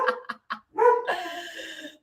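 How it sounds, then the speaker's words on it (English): A pet dog barking indoors, three quick sharp barks followed by a longer drawn-out bark and a whining yelp, loud and close with no talk over it. "Sorry, my dog is barking."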